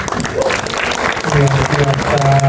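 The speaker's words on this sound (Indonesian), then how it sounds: "Tepuk tangan ya jawabannya" Applause breaks out at a film press conference, a short burst of clapping from the room that grows louder toward the end, mixed with voices and a steady hum.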